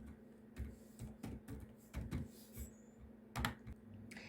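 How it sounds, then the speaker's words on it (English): Computer keyboard keys tapped while a password is entered, a steady run of short, close clicks in an uneven rhythm with a quick burst near the end, over a faint constant hum. "I'm going to type in my password right now."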